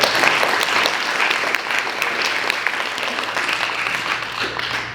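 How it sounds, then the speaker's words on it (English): A youth climate action holiday party crowd gives a round of applause for SBYCA, sustained close clapping from many hands that fades slightly toward the end. "Let's give a round of applause for SBYCA for that."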